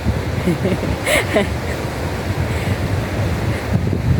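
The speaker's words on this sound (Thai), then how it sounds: "นี่ค่ะบรรยากาศทะเล อันนี้ทะเลจันทบุรีนะคะ" Sea surf rolls in at Chao Lao beach in Chanthaburi, Thailand, a loud, constant wash of waves mixed with heavy wind buffeting the microphone, while someone speaks briefly over it.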